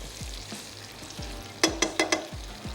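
Boiled goat or mutton meat frying in a pan, a constant sizzle broken by a quick run of sharp metallic clinks and scrapes of stirring.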